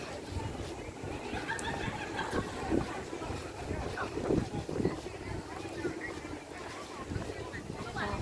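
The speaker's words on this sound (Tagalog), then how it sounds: "Salamat naman at nahangin." Wind gusting across the hilltop of Fort Canning Park, a continuous rushing buffet on the microphone with rustling leaves and plants, while a person talks over it.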